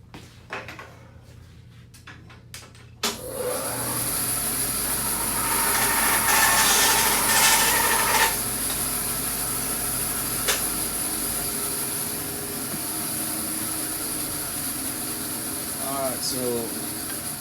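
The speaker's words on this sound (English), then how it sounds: "I'm going to step over here on the bandsaw off camera and take care of that real quick." Bandsaw resawing a wood board for a 1920 parlor rebuild, starting abruptly after a few seconds of quiet and then running as a steady loud whine and rasp with shifting pitch through the cut, close by, no talk.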